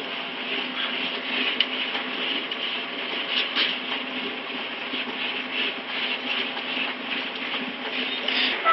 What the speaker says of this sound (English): Now we're corking it to smudge it all together.